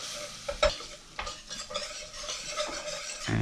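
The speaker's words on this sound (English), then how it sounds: "Once the butter is melted, I'm going to add the flour. And we're just going to whisk this" A whisk stirs flour into melted butter in a pan, giving soft scraping strokes and a few sharper taps against the metal over a faint sizzle, close and fairly quiet.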